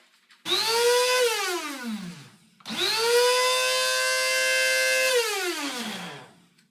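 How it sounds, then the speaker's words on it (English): An electric coffee grinder grinding grasshoppers whirs loudly in two bursts, its motor pitch rising as it spins up and falling as it winds down. "we are going to grind them up in your electric coffee grinder"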